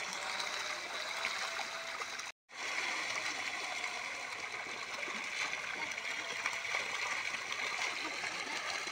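Many catfish in a village pond splash and churn the water while feeding, a continuous rushing, gurgling wash that cuts out for a moment near the start, heard without talking.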